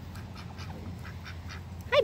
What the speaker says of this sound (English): Ducks are coming. Duck, duck. Quack, quack.